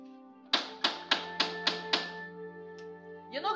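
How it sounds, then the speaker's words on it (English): Someone bangs on a door, six evenly spaced knocks in quick succession, close and distinct, followed by a faint shuffle in an otherwise quiet room with a low hum. "You're not going to get any sleep because I will keep banging on this door."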